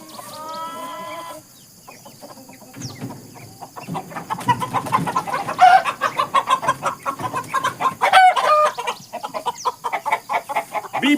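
Chickens, including chicks and a rooster, in a garden plot give a rising chorus of rhythmic clucking and chirping, close and fairly loud, with a brief high crow-like call near the start and bird chatter throughout.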